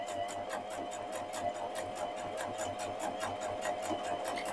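A sewing machine stitches a curved seam on a faux-leather patch with tear-away stabilizer underneath, running in a steady fast rhythmic whir of evenly repeating needle strokes, close and continuous throughout.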